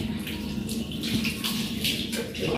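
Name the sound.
washing a gas stove with water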